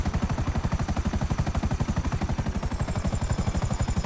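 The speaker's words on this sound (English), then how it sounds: "I've gotten better at flying helicopters though." A helicopter flying in the video game GTA 5 Online, with a steady, rapid rotor thump that pulses loudly and evenly throughout, plus a high turbine whine riding above it.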